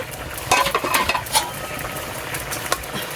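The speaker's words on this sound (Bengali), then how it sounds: "এবার ঢাকনাটা তুলে দেখি" Lid lifted off a pot of simmering rohu fish curry with drumsticks, giving a few sharp metallic clinks and scrapes close by over a soft bubbling hiss, with no talking.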